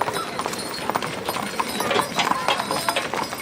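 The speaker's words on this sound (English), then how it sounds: "that's actually a mountain spring wagon pulled by their horse Dixie." A horse named in a lighted parade pulls a mountain spring wagon, its hooves clip-clopping in a steady walking rhythm on pavement amid crowd noise and general chatter, with a faint whinny possible.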